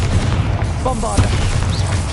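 Bombarda, a blasting spell in Hogwarts Legacy, bursts with a loud booming explosion amid ongoing spell-combat noise, with a sharp blast near the middle.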